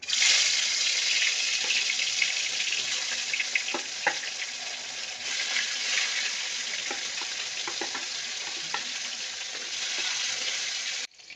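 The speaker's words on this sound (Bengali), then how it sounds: "তেল গরম হয়ে গেছে, এবার আর মাছ ভেজে নেব।" Fish fries in hot oil, a loud, steady close-up sizzle that continues unbroken for about eleven seconds, with scattered soft clicks and taps of stirring, and no voices.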